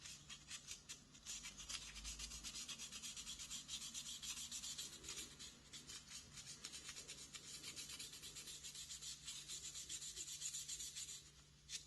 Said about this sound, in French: Et maintenant, on va faire la finition avec une éponge à poncer. Celle-ci est au grain 1600.